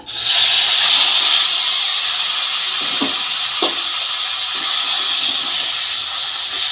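Raw mango pieces hiss and sizzle loudly in hot ghee in a pan, a close, steady frying sizzle with a few faint clinks of a utensil partway through.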